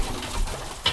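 A hungry domestic pigeon gives a short low coo near a single feeder, ending in a faint higher note, brief and close.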